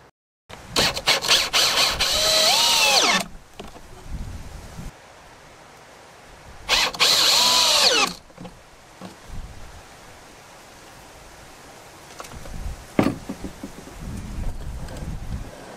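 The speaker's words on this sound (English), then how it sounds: "it's about there that I have to screw in each corner" Power drill drives hex head metal screws into a kayak to fasten a boat seat, with two long loud whirring bursts and a shorter, weaker run after them, separated by brief pauses.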